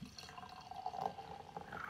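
Apfelstrudel doppelbock beer pours into a glass with a soft, continuous trickling and gurgling that stays faint and close, with no talk.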